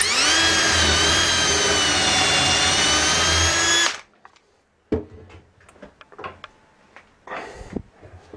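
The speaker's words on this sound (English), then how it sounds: "Now we will drill again first hole." A power drill bores a dowel hole for a door frame with a dowelling jig, a loud steady whine for about four seconds that cuts off, followed by scattered clunks and handling knocks.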